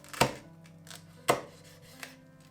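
A knife cuts through the crackling skin of home-oven-roasted crispy pork belly (siu yuk), giving three sharp, crunchy chops about a second apart, close and without speech.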